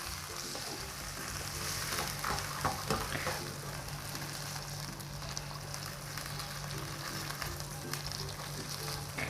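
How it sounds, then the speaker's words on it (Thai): Chinese sausage bubbles and sizzles in water in a pan, a steady busy crackle with occasional stirring scrapes, heard alone at moderate loudness throughout. "เราก็จะตามด้วยในส่วนตัวกุ้นเชียงค่ะ ลงไปทอดเลยนะคะ"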